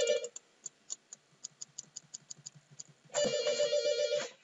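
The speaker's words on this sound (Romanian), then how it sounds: "exact în momentul ăla îmi sună telefonul, dar sună tocmai fixul" A landline telephone rings in repeated short electronic bursts, a faint ticking pattern of trills that swells into a loud, sustained ring near the end, with no voices.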